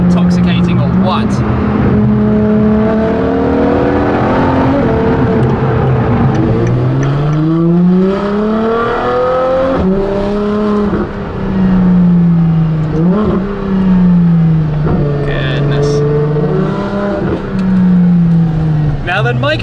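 Ferrari LaFerrari with a straight-pipe exhaust driving on the road, its engine loud and continuous as it revs up and settles through gear changes, heard from close by.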